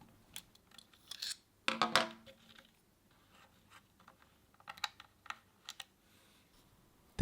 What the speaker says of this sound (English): The cable is then cut in the middle.